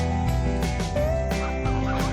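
Several honking goose calls in quick succession, loud and close, layered over one another with harsh nasal tones, from an anxious young goose newly placed among other geese.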